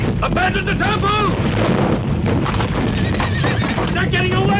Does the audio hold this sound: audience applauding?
no